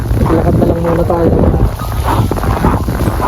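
Strong wind buffets the microphone outdoors in a cold Canadian province, a loud continuous roar throughout, with faint talk underneath.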